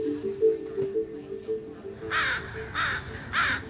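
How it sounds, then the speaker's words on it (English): Crows cawing around a dead crow held up by a masked person, three loud harsh caws in a row near the end after a quieter stretch with a steady low hum. "A crow will come across the body of a dead crow, and it will vocalize and recruit other birds to the scene."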